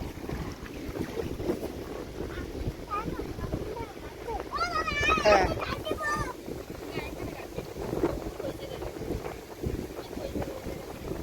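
Trawler boat on a river in the afternoon, its engine a low rumbling drone under heavy wind buffeting, with people talking nearby and a brief whistling call midway.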